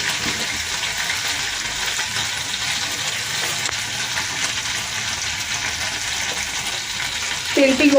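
Oil mixed with prawn juices sizzling steadily in a pan, a dense close hiss holding evenly throughout, with a sharper splash of crackling at the very end.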